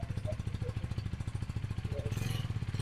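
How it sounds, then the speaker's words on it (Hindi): A 3rd-generation KTM Duke 390 motorcycle idles close by, its engine giving a steady, deep, even thump that stays constant throughout. "अभी ये बाइक आइडियल पे खड़ी है"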